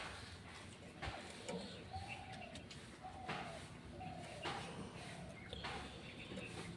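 Pigeons cooing at a home pigeon loft, soft repeated low coos at a moderate distance amid faint background clatter and rustling, with a few quiet voices.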